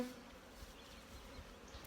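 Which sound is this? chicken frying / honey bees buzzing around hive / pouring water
honey bees buzzing around hive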